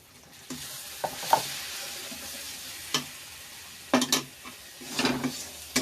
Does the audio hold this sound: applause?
no